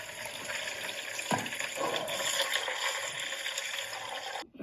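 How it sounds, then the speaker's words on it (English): Water gushes and gurgles steadily from the small-block Chevy engine of a junkyard 1970 Chevrolet Nova, a close, continuous splashing pour that cuts off abruptly at the end. "Oh yeah, that's my motor that just puked water."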